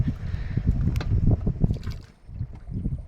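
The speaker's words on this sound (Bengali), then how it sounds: "আজ কিন্তু আস্তে আস্তে নৌকাটা বেয়ে নিয়ে যাচ্ছে" A boat is rowed slowly along the Garal river, with low churning water and wind noise that swells and dips, a brief lull near the middle before the rough rumble returns.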